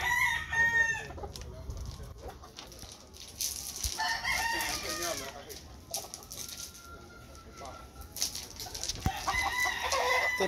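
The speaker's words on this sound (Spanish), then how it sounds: "Este pollito." Chickens cluck and a rooster crows repeatedly in a poultry yard, the calls near and fairly loud over a busy background of birds, with some voices talking.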